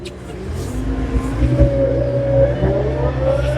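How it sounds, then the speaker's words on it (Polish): A work vehicle at a house-building site fires up and pulls away, its engine rising in pitch as it accelerates, close by and moderately loud with a low rumble underneath. "Odpalamy furę, jedziemy na bazę"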